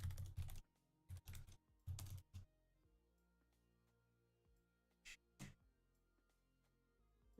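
Bursts of typing on a computer keyboard, quick clustered clacks in three short runs separated by quiet gaps and a couple of isolated keystrokes, close and fairly faint.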